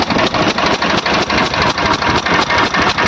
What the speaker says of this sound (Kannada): ಗ್ಯಾಸ್ಕೆಟ್ ಹೋಗಿ ಕಂಪ್ರೆಷನ್ ಹೆಂಗ್ ಲೀಕೇಜ್ ಅಂತೈತ್ ನೋಡ್ರಿ